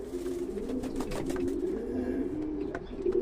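Young pigeons in a UK loft coo softly in a quiet, close, repeating throaty murmur.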